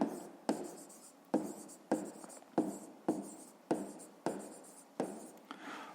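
Pen writing by hand on paper while working through a fifth-grade math exercise, heard as a regular series of about eight sharp scratchy strokes, close and clear, with no talking.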